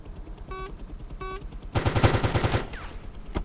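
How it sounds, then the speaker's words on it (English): A minigun in the military game Arma 3 spins up and fires a dense, rapid rattling burst for about a second, preceded by two short electronic beeps and trailed by a sharp single shot. "Oh, look, there's a minigun."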